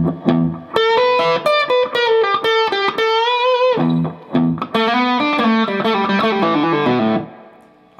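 Distorted electric guitar plays the first two licks of the solo back to back: loud, sustained bent notes and quick phrases with brief gaps, fading out at the end.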